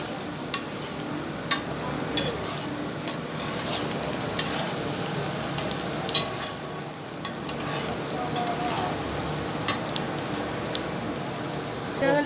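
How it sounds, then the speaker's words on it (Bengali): Chicken pieces for a homemade chicken curry fry in a pan, a steady close sizzle broken by repeated scraping and clacking as the pieces are stirred, with no one talking. "ভালোভাবে ভেজে নিতে হবে, ব্রাউন কালার করতে হবে।"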